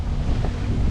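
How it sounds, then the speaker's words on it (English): Strong wind buffets the microphone aboard a boat on the Norfolk Broads, a loud continuous low roar with water and hull noise beneath, steady throughout and with no voices. "So with the strong winds out, it's going to be a bit difficult to tell which way the tide is going."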